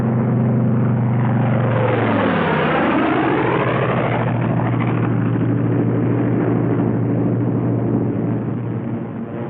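Several propeller airplanes from a 1931 crime drama fly in loose string formation, one behind the other, a loud continuous engine drone with a sweeping pitch change as one plane passes close, then a steady roar throughout.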